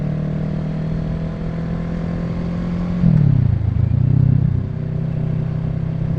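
A motorcycle idles with a steady low drone, then the engine note dips and rises as a little throttle is added while the clutch is released, settling back to a smooth hum, close by.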